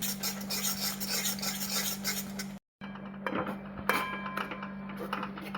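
Coconut sweet mixture of milk and grated coconut being stirred in a pan for ladoos, with steady scraping and rubbing of a spoon against the metal, continuous and close, with a few sharper clinks near the end.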